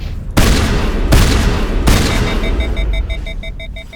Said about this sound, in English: 3 shots like that should be enough to kill anything.